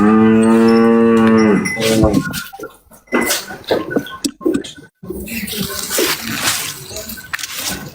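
A cow moos loudly and close inside a barn, a long drawn-out low call followed by shuffling, clattering barn noises and some speech.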